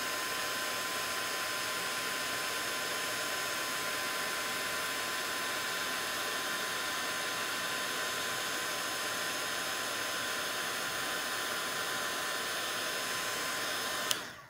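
A heat tool blows hot air to set raspberry-coloured embossing powder on a card, giving a steady, close, loud whirring hiss that runs on unbroken and then cuts off at the end.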